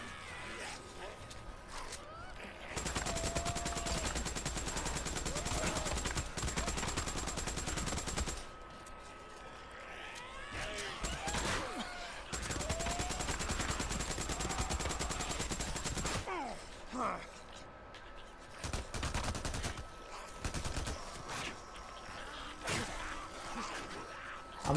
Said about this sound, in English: Oh, there's a sniper somewhere.